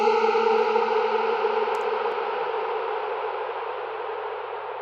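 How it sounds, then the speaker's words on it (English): Native Instruments Raum reverb in Airy mode spreads a sustained, shimmering tonal wash that slowly decays and thins over several seconds, smooth and airy with no voices. "it's a great sounding reverb so far"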